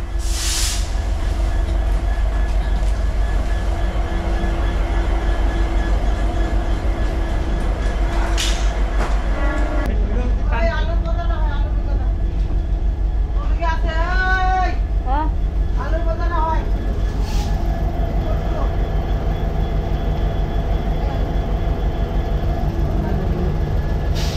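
Inside a running DEMU special local train between Haldibari and Siliguri Junction, a loud continuous engine rumble and wheel rattle with squealing wheel tones midway and a few clanks, steady throughout.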